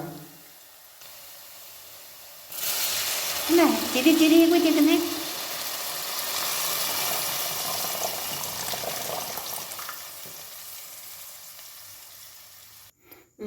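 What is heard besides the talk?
water poured into sizzling chicken curry pan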